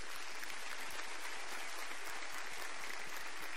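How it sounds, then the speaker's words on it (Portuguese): A church congregation claps in a dense, steady burst of applause that fills the space, loud and continuous, with no talk over it. "Você pode aplaudir ao Senhor?"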